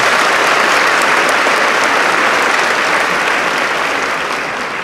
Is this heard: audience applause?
yes